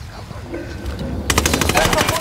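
In Ghost Recon Wildlands, a low rumble builds, then rapid automatic gunfire breaks out in a steady stream of loud, close shots that keeps going to the end.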